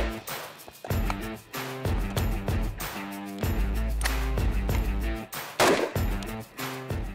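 Rifle fire at about 20 yards from a Sig Spear XM7 and an everyday 5.56 rifle, a run of loud, sharp reports at irregular intervals with ringing decay, close and dense.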